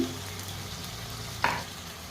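Water goes into a pan of frying fish, with a steady close hiss of oil and a sharp burst of sizzling as the liquid hits, then settling back to an even fry.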